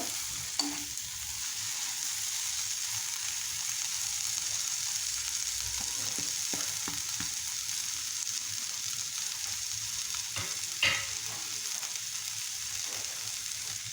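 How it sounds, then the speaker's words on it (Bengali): Bottle gourd curry with coriander leaves being stirred in a pan: a constant soft simmering hiss runs throughout, broken by occasional spoon scrapes and clinks against the pan, a couple of sharper knocks, no talking. "ধনিয়ার পাতা দিয়ে নেড়ে চেড়ে দিচ্ছি আবার"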